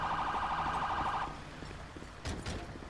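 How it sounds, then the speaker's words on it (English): An ambulance siren wails in a GTA 5 firefighter-mod scene in New York City, a loud warbling tone that stops abruptly, followed by quieter scattered clunks and knocks. "Sounds like EMS is pulling up just in time."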